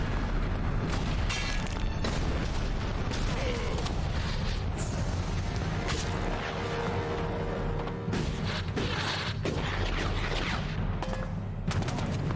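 A grenade blast in the action RPG ELEX, heard among dense, continuous booming and crackling battle noise that stays loud throughout without a clear pause.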